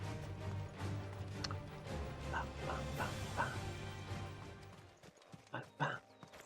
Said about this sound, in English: Dogs! Not the dogs. Anything but the dogs.